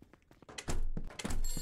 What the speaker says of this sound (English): Shut the door on myself.